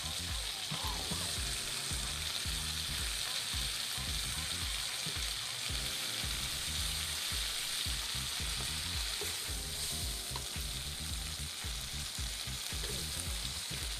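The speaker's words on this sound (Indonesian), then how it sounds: "setelah itu masukkan kacang panjang, masak hingga layu dulu ya." Long beans stir-fry in a hot pan, giving a loud, steady, dense sizzle with occasional scraping from stirring, continuous and close throughout.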